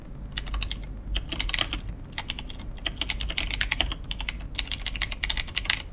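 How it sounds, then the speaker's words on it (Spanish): Rapid clacking of a Razer mechanical keyboard with Razer Green switches in quick bursts, crisp and close, with brief pauses between flurries of keystrokes. "teclado mecánico como yo estaba buscando, a ver si llega a escuchar"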